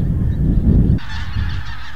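A large flock of pink-footed geese, about 150,000 birds leaving their roost, honks continuously, many overlapping calls forming a loud, dense clamour with a low rumble underneath.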